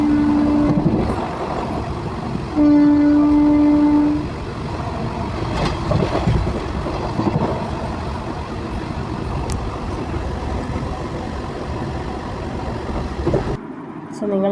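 Onboard a passenger train, a steady rumbling ride noise runs throughout, broken twice by a loud, sustained horn blast near the start, with muffled talk mixed into the background.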